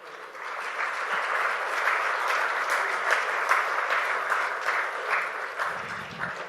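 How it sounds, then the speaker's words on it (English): Audience applause welcoming the chief guest at the Petrotech 2016 CEO Conclave, a steady, dense wash of clapping from a large crowd holding even for several seconds and easing slightly at the end. "I request the audience to welcome our chief guest with a big round of applause"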